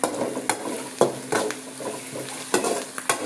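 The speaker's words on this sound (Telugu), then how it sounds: "ఉల్లిపాయలు అయితే మగ్గుతున్నాయి అన్నమాట." Onions fry and are stirred in a pan while making egg curry, a steady close sizzle broken by repeated scraping knocks of the spoon against the pan, with no talk.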